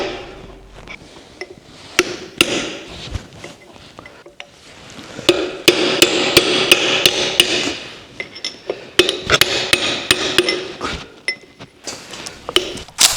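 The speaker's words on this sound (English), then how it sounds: "I'm bending back the lock tabs on the bolt." Sharp metal hammer strikes ring out in irregular bursts while lock tabs are bent back on a bolt during front axle hub teardown of a Scout; clinking taps, some quick runs of blows, close and clear.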